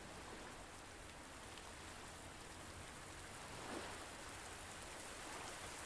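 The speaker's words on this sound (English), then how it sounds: "Oh, hey, it started to rain." Rain in the video game Under a New Sun falls as a soft, steady hiss of dense drops on surfaces, faint and continuous with no voices over it.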